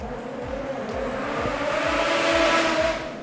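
Two-wheel-drive drag race cars at a Souped Up 2018 drag racing event roll in under a steady, loud engine rumble with rhythmic low pulsing and a broad rushing roar that swells slightly toward the end.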